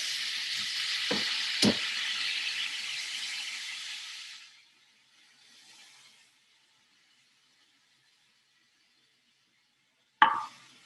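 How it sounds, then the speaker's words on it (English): Chicken broth is poured into a hot pan and gives off a loud, steady sizzle with a couple of sharp clinks of a utensil. The sizzle fades away after about four seconds, then a brief scrape follows. "just put it in the pan. It'll sizzle, but it's okay."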